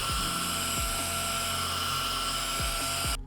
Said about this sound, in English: So I just need to do a few more minutes of sanding.